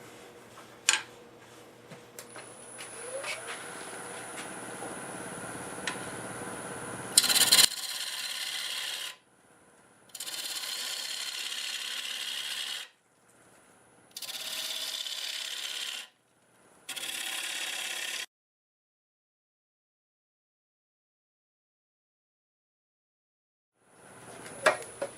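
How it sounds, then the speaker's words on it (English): Lathe tool hollowing a square maple bowl, sounding as a rough, rasping cut that runs steadily, then comes in several separate bursts of a few seconds each with quiet gaps between. "I'm going to start hollowing out from this side."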